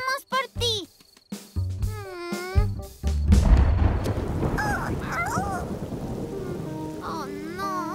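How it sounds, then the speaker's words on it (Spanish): Cartoon rain and rolling thunder build into a steady wash of downpour, with children's animated voices exclaiming over it and a brief chime-like tone near the end. "¡Oh, no! ¡Está lloviendo!"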